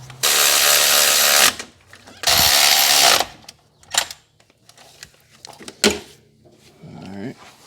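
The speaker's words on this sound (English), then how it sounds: "then we'll just use electric ratchet and run those down" Electric ratchet running bolts down on a Honda Civic EG transmission during a B-series swap, two loud sustained whirring bursts of about a second each, followed by scattered clicks and clunks of tools and parts.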